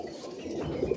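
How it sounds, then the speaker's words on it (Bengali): Giribaz pigeons cooing in a loft, a steady low murmuring coo that swells slightly toward the end, close and fairly loud with no talk. "দাদার বাড়িতে অসাধারণ অসাধারণ পায়রা আছে, পায়রা দেখেই বুঝতে পারছেন"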